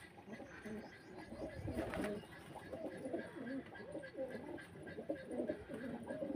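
Pigeons coo repeatedly at close range in a Karachi pigeon loft, their soft low calls overlapping steadily throughout, with some background chatter and brief rustling.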